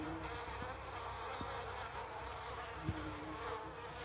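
A bee buzzes as a steady, faint hum that carries on without a break under a low background hiss, with no voices.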